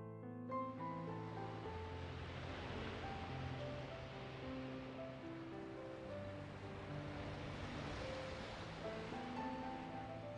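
Gentle sea waves wash in and out in slow, broad swells beneath sustained soft music, the surf rising twice and fading again, steady and unhurried throughout.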